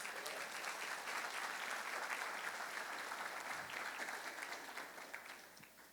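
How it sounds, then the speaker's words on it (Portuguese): Congregation in a church applauding during a Portuguese-language Advent sermon, sustained and even many-handed clapping that fills the room, then thins slightly toward the end. "Vamos aplaudir o Senhor."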